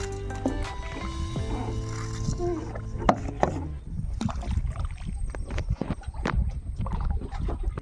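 A fishing net is hauled up out of a river in the Sundarbans, bringing in debris and large prawns; wet dragging, dripping and knocking against a boat sound close by while voices talk over it.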